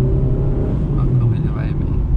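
A Volkswagen Voyage 1.6 accelerates in second gear on a highway, its engine a steady low droning rumble with road noise inside the cabin, while someone talks over it.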